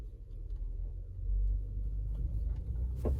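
A car rolls along the road with a steady low engine and tyre rumble, close and continuous, swelling slightly midway, with no one talking.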